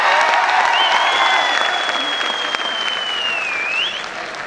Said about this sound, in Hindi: बड़ा ताली पीट कर